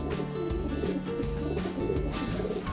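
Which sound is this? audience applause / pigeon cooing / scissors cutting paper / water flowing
pigeon cooing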